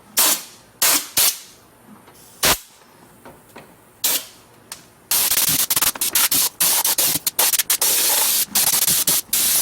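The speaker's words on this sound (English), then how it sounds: "make sure you hold your sprayer right tight to that seam and spray it up in there good" A sprayer held tight against welded metal seams hisses out rust-proofing coating, first in several short separate bursts, then in a long, loud, steady spray broken by brief pauses.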